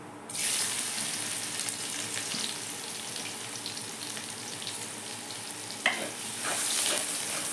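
Chopped ginger and garlic fry in oil in a wok for street-style chicken chowmein, a steady close crackling sizzle that swells as the pieces hit the pan, with a brief clatter near the end and no talking.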